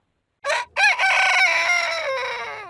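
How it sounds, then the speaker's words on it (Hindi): A rooster crows loudly and close by, a short opening note followed by a long, drawn-out call that fades at the end. "अकड़कर चलते हुए वह सिर उठाकर कुकड़ू कू की आवाज करने लगा"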